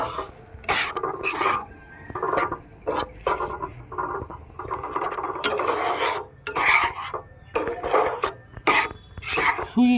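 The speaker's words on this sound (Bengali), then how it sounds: "এখন এই জাল করা রাখা চিনি আর দুধটাকে সুজির মধ্যে অল্প অল্প করে দিব আর নাড়তে থাকবো।" Semolina being stirred in a pan while sugared milk is added bit by bit, with repeated scraping and rasping strokes of a spoon against the pan and occasional clinks, close and fairly steady across the whole stretch.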